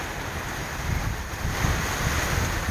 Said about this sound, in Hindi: हवा का दबाव आप देख सकते हैं गाइस, इस तरीके से बहुत तेज़ हो रहा है।